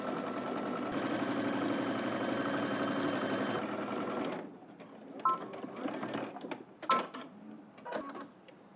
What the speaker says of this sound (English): we're going to head back to the machine and we're going to top stitch on the facing side, a 1/4 inch away from that seam